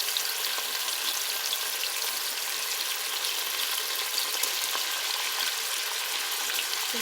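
Beefsteak and bell pepper stir-frying in a thin layer of oil, a steady, dense sizzle and crackle running evenly throughout at close range, with no voices.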